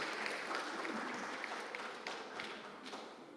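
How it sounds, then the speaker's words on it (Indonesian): Applause from a church audience after a choir's debut concert performance, a steady, fairly faint wash of many hands clapping throughout. "Tepuk tangan untuk Sora Pardis."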